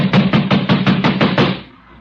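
Fist pounding on a wooden door in an old-time radio mystery drama, about eight rapid heavy knocks in a steady burst, loud and close, then stopping.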